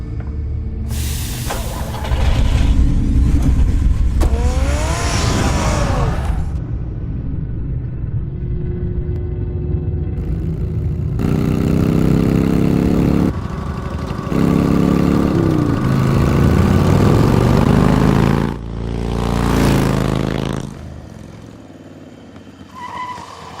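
Car engine in the Batman: The Telltale Series video game, a loud sustained rumble with revving swells and skid-like bursts running through most of the scene, fading near the end.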